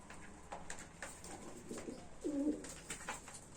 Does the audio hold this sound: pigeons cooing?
yes